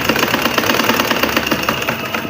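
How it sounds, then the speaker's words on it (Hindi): A sewing machine runs continuously while stitching along a marked line, its rapid mechanical needle clatter loud and close, with an even, fast rhythm and no talk. "इसी तरह बार बार इस तरह सिलाई लगाते जाएं।"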